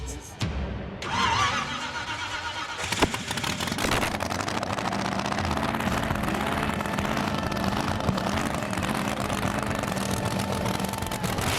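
A rear-engine car's motor is fired up, catching after a brief start and then running on at a steady rough roar close by, with voices faintly audible over it.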